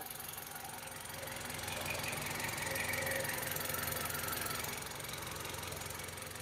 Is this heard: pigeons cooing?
no